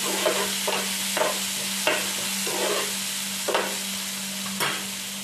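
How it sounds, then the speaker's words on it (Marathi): Onion and tomato stir-fry in hot oil for a river-fish curry, a steady close sizzle broken by regular scraping strokes of a spoon about every half second to second. "कांदा आणि टोमॅटो लाल करून घ्यायचं व्यवस्थित, परतून घ्यायचं ते"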